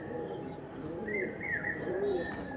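A breeding pair of pigeons cooing, with soft rolling coos rising and falling twice over a low hum of background noise, fairly close and without talk.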